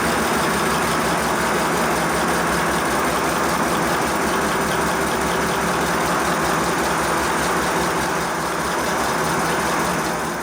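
A small air compressor runs steadily beside a 5-inch-gauge model pannier tank steam locomotive, with its valve set to 50 psi. The constant mechanical hum and drone hold at even loudness throughout, with no talking.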